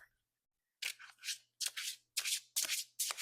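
A bendy tarot deck is shuffled overhand, giving five quick papery bursts close to the microphone, each a brisk swishing flutter with short pauses between.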